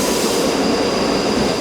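Train rumbling steadily inside a railway station in the Glasgow area, a loud continuous roar with a faint high-pitched whine, no voices.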